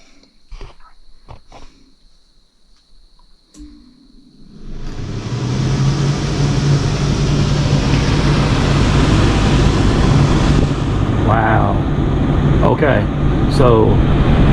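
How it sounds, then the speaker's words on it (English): An RV air conditioner fan blows through the ceiling vents on high, starting after a few quiet seconds with clicks and then holding a steady loud whoosh with a low hum. Brief voice sounds come in near the end. "and now we're going to turn fan on and see how it blows"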